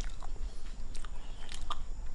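A Matahari durian from Lambunu being bitten and chewed, a few soft, moist crunching bites close to the ear, short and quiet with little crispness.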